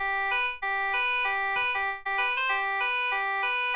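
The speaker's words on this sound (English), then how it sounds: "And then ocarina sound." A synthesized ocarina-style lead plays a bright, tonal melody in the manner of the house song from Ocarina of Time, repeating short phrases with two brief gaps between them.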